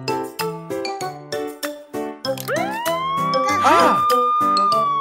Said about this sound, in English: All police cars have sirens and lights.